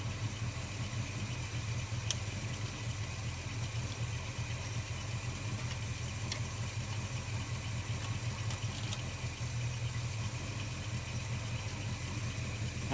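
A Holden HK car engine idles steadily while warming up, a continuous low rumbling hum with faint light ticks, heard close and alone with no talk.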